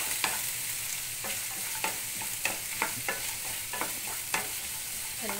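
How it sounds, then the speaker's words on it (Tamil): Mustard seeds, urad dal, peanuts, green chillies, curry leaves and a little ginger temper in hot oil, giving a bright steady sizzle with regular spoon strikes and stirs against the pan, close and alone. "எல்லாம் தாளித்து கொஞ்சம் வதங்க விட்டு"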